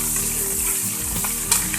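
Okra and chillies frying in hot oil, a loud continuous sizzle with stirring scrapes and a brief sharper crackle near the end.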